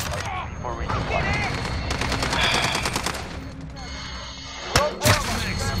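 Game gunfire in Call of Duty, a busy stretch of rapid automatic bursts and mixed shots at steady loudness, with two sharper, louder blasts near the end and a player's voice talking over parts of it.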